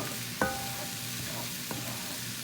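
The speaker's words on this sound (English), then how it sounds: "Stir fry is so fun." Stir-frying quinoa fried rice with shrimp in a stainless steel wok, a steady low sizzle with a sharp metallic clank from the spatula early on and a softer tap later.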